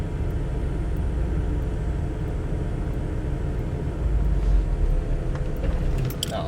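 A manual car's engine gets a little gas as a beginner eases off in first gear, producing a steady low rumble that swells louder for a moment before settling.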